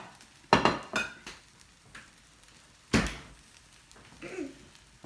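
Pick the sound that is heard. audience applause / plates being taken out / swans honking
plates being taken out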